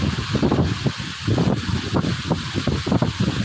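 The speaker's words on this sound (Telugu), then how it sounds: "గాలి భయంకరమైన శబ్దంతో వస్తుంది" Strong wind in Konaseema, on Andhra Pradesh's coast, roars and buffets the microphone in a dense, continuous rumble with gusty surges, heard close and loud with no talk.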